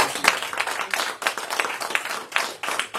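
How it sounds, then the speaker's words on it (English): A small audience claps at a community business pitch event, with uneven bursts of fairly close hand claps that rise and dip in waves rather than a smooth roar. "Another round of applause."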